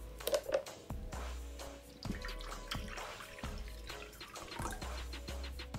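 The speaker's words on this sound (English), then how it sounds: "we gotta put some water in the bowl" Water splashes and trickles into a bowl in a few short pours for sneaker cleaning, quiet and close, with faint drips between.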